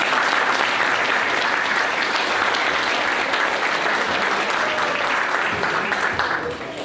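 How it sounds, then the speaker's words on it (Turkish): Applause from a seminar audience, steady dense clapping from many hands held at an even loud level throughout, tapering slightly at the very end. "Alkışlıyoruz."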